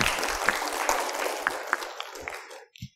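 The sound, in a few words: audience applause after a presentation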